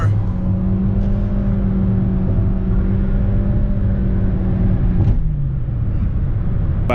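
A 2018 Nissan Sentra SR Turbo Midnight Edition, a compact car with a more powerful engine, pulls hard at full throttle, its steady engine drone and whir climbing continuously before a shift-like dip near the end, heard from inside.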